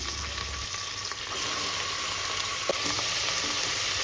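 Chicken sizzling as it fries in browned onions for a Tamil-style chicken biryani, a steady close crackle and hiss with faint stirring scrapes, no voices.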